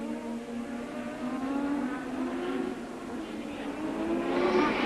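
A Formula 1 car approaches the chicane at the 1987 Detroit Grand Prix street race, its engine whine rising steadily in pitch and loudness as it draws nearer from a distance.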